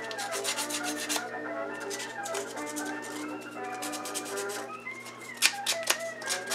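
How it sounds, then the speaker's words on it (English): Switch parts are scrubbed with sandpaper or emery cloth before gluing, giving rapid close rasping strokes in a steady rhythm, a few sharper scrapes toward the end. "Try taking a piece of sandpaper or emery cloth, whichever, and clean the surfaces so the epoxy glue gets a good grip on the pieces."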